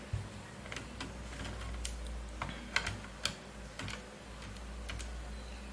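A small screwdriver works a keyboard screw out of an HP ProBook 450 G2 laptop, giving scattered faint clicks and ticks, with a few sharper taps over a quiet room.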